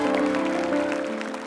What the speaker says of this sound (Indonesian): Tepuk tangan buat Vanessa.